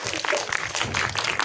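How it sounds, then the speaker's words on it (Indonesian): An audience at a press conference for an Indonesian family film breaks into a brief, dense burst of applause, steady and fairly loud with some crowd noise mixed in. "Boleh kita berikan tepuk tangan?"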